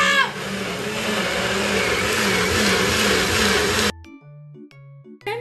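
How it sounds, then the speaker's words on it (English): A loud blender whirs steadily as it purees red cabbage with water, a dense motor roar lasting several seconds before cutting off abruptly, followed by a few faint clicks and tones. "I'll put them in a blender and add some water."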